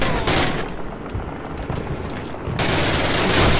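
Grenade explosions in a video game burst loudly in a dense, crackling barrage that briefly thins out before another heavy blast.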